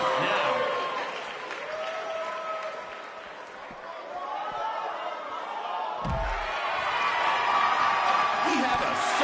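A sold-out arena crowd in the WWE 2K19 wrestling game roars and applauds in a steady, dense wash, with commentators speaking over the noise throughout.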